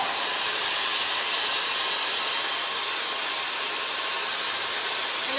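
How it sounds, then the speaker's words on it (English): Shark FlexFusion air straightener on the wet-to-dry heat setting blows a constant, loud, close rush of air through a section of curly hair, a steady broadband whoosh with no breaks and no talking. "you can feel the air coming down with the hair tool"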